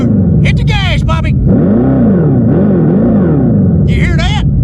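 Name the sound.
Dodge Charger EV accelerating in drag mode, synthetic exhaust sound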